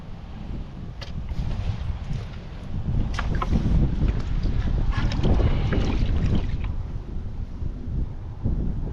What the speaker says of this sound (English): the wind is really starting to turn up now